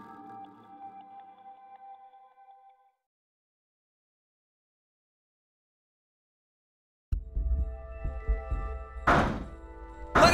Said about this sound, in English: Bang all you want, it won't open.